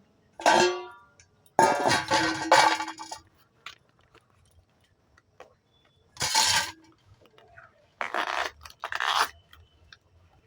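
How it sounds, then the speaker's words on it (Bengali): Bracts being peeled by hand from a banana flower make crisp crunching and tearing bursts. There are about five separate snaps and rips, close up, with quiet pauses between them. "এবার আমি মোচাটা ছাড়িয়ে নেব"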